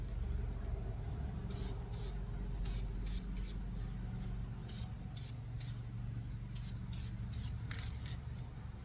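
Duplicolor anodized spray paint hissing onto a Jackson JS22 guitar body in a light tack coat, in several short bursts over a steady low background hum.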